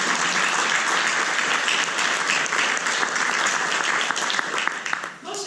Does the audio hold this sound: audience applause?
yes